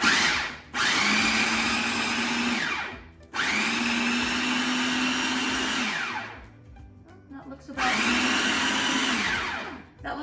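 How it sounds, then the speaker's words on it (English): A food processor whirs in three separate bursts, each a loud, close electric motor whine that climbs in pitch as it spins up and holds for a couple of seconds. Short pauses fall between the pulses, and no one talks. "And then we'll go ahead and get the food processor."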